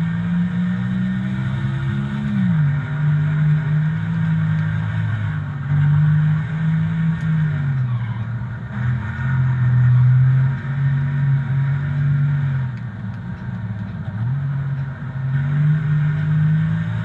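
A race car engine drones loud and steady in NASCAR Thunder 2004, Lumberjack 325 race with Ricky Rudd. The pitch shifts up and down as gears and throttle change, with constant road rumble and no voices.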